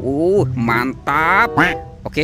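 A goose gives a few close, nasal honks in short, uneven bursts, with a voice speaking briefly between them.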